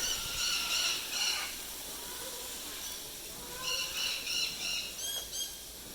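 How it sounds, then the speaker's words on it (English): Parrots at the Parrot Mountain and Gardens bird park in Pigeon Forge, Tennessee, giving loud, harsh, repeated squawks in bursts over a faint hissing background. "Be a little more serene if there was less bird noise, but it's Parrot Mountain"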